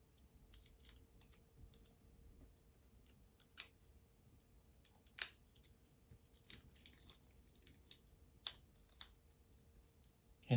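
Scissors snip at tape stuck on a book, with sparse faint clicks and cuts over a quiet background, close by and soft, and no talking.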